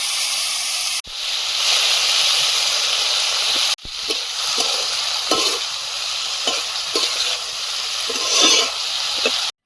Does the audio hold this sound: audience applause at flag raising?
no